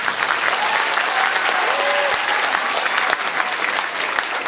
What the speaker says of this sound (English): Thomas, get a clap for him.